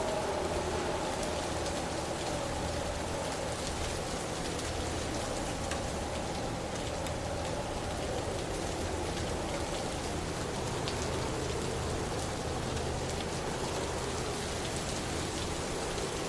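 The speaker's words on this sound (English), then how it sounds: "it's torrential rain there at the moment" Torrential rain from Hurricane Milton pouring on International Drive near Universal, Orlando: a dense, unbroken roar of heavy rainfall on surfaces, steady and loud throughout with a breezy undertone.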